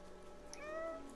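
A black cat meows in the video game Stray, one drawn-out rising and falling mew heard close and clear over a steady background hum of game ambience, with no talking.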